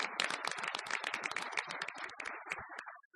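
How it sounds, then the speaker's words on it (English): An audience at a plenary session of a technical education conference claps in dense, fairly faint applause that thins out and trails off toward the end. "let's give them a round of applause"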